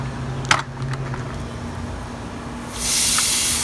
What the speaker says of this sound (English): you want to make sure you got plenty of pressure in your sprayer, which will allow you to have a mist and not a stream